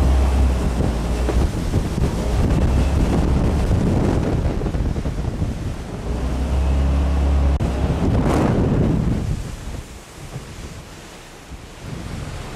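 A jet boat engine warming up on the west branch of a river near Wanaka, New Zealand, roaring steadily with wind and water noise, surging louder midway before easing off toward the end.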